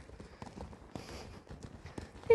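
Hoofbeats from a Spanish horse cantering in a circle, faint rhythmic thuds repeating in a steady three-beat pattern at a moderate distance, with a brief voice at the end.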